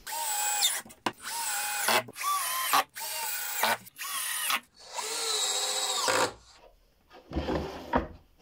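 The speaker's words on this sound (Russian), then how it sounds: "Просто прикручу ее на шурупы." A power drill driving screws into 8 mm plywood while building a beehive, several loud whirring bursts of a second or two each, separated by short pauses, with no talking.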